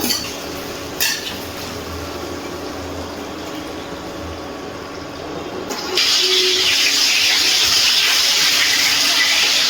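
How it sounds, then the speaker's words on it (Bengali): Pointed gourds (potol) frying in oil in a pan as they are turned, giving a steady close sizzle with faint clinks of the utensil; the hiss grows louder and brighter partway through. "উল্টে পাল্টে পটলগুলো ভেজে নিচ্ছি।"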